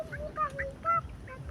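Chickens being fed, with soft clucking and chirping calls popping up in short bursts over a low background rumble, fairly quiet and close by.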